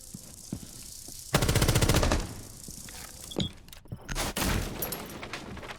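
R4-C rifle fire in a first-person shooter game: a loud rapid automatic burst of about a second, then scattered single shots and impacts against quieter background game sounds.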